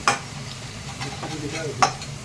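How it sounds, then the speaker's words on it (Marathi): Green chilli and a masala for dry cabbage roast in oil as a spatula stirs them, giving two sharp scrapes over a low, steady sizzle. "हिरवी मिरची देखील आपण तेलात भाजून घेत आहोत"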